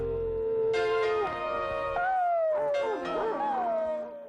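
Several Rhodesian Ridgeback dogs howl together up close, long wavering tones overlapping and sliding in pitch, broken by a short pause before a second round of mixed howls and yips.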